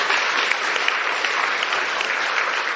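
Sustained applause from an audience greeting Andrea Clarke at a fireside chat, a steady dense wash of clapping for nearly three seconds with no break.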